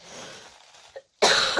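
A woman coughs close to the microphone: a muffled, breathy cough trails off into a brief pause, followed by a sharper, louder burst.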